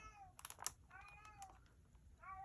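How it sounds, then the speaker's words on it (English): An indoor cat cries from outside a closed room, a few faint, drawn-out meows in a short burst, with light tapping noises in the quiet room. "If you hear my cat crying"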